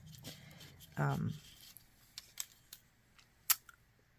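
Scissors snip through paper to cut out homemade stencils: a few quiet, sparse, crisp clicks close by in a hushed room, after a brief muffled sound at the start.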